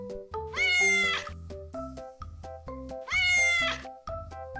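Several domestic cats meowing in turn, with two long, loud, drawn-out wailing meows among shorter calls, close and clear with no talking.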